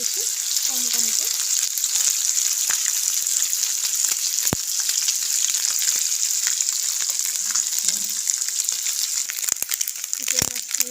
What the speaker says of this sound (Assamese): এয়া মাছখিনি এতিয়া লৰাই দিছোঁ কম কমকৈ।